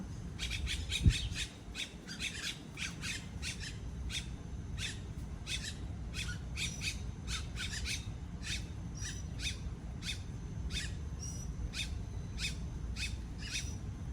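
Birds call repeatedly outdoors, short sharp squawks and chirps scattered through a steady low background rumble, fairly faint and distant.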